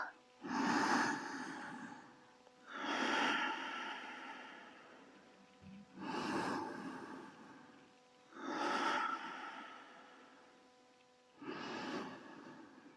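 Deep yoga breaths, five long airy exhales spaced evenly about every two and a half seconds, close and soft, each swelling and fading with a breathy hiss.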